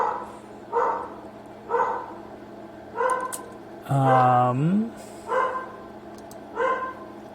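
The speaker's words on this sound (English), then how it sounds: "Hold on, excuse me, my dog's yelling at somebody." Dog barking repeatedly indoors at a steady rhythm, about one bark per second, with a longer drawn-out whining bark in the middle, moderately loud and somewhat muffled.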